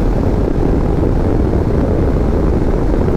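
Royal Enfield Himalayan (2022) motorcycle engine pulling under throttle on the road, a loud steady broadband drone mixed with wind rush, continuous throughout with no speech.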